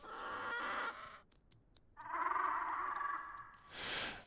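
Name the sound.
chicken clucking in video game The Isle Evrima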